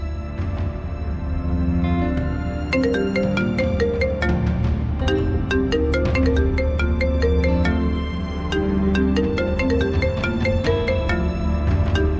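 An incoming call rings on a phone as a repeating electronic ringtone melody, steady and fairly loud, playing alone for several seconds in a drama scene.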